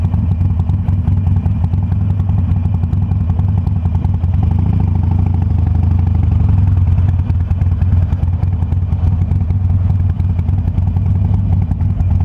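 A Harley-Davidson Sportster Roadster motorcycle engine runs with a loud, deep, rumbling idle, steady throughout, with a slight swell in the middle and nearby mechanical clatter.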